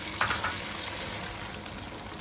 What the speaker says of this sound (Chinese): 把我们蒸好的黄豆倒进来给它炸一下